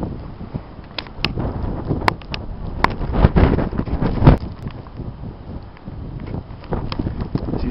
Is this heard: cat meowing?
no